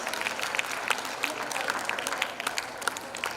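An audience at a school prize day gives a round of applause, a dense patter of many hands clapping steadily and moderately loud, continuing without talk.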